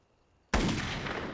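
Gunfire erupts in a wartime combat standoff: after half a second of near silence, a loud, sudden blast of shooting starts and holds as a dense, ringing burst to the end.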